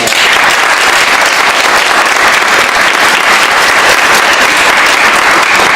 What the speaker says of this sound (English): I just think we should applaud Garth right now.